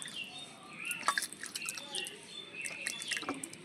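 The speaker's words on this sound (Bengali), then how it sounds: "আমগুলো প্রথমে আমি ধুয়ে নেব, মানে জল নিয়েছি, গায়ে যে কষগুলো লেগে আছে ভালো করে ধুয়ে নেব আমগুলো।" Raw mangoes being washed in a vessel of water by hand to rinse off their sap: light splashes and scattered drips, soft and close, in an irregular patter.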